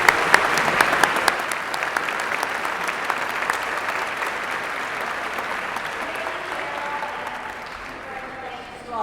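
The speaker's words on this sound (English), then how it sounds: "And give us a final round of applause." Audience applause at the 2015 Chicago/Midwest Emmy Awards, a dense, steady crowd clapping that stays loud and slowly thins toward the end, with faint voices under it.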